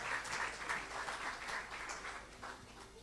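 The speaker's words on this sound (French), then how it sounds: "Vous pouvez les applaudir aussi, hein?" Faint, distant applause from an audience for the orchestra at a performance of Rossini's Stabat Mater, a steady patter of clapping swelling and fading slightly.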